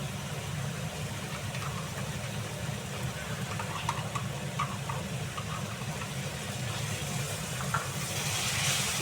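Water splashed into egg curry (dim kosha) in a hot pan sets off a steady, close sizzle and hiss that keeps going evenly and swells slightly toward the end.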